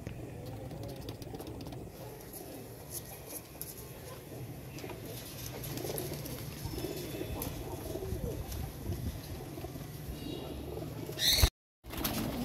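Several Royal Teddy pigeons coo softly and repeatedly in the background, with low rustling and a brief loud knock near the end.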